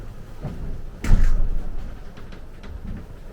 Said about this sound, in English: You only hear when the wave slams between the hulls, which is not too bad.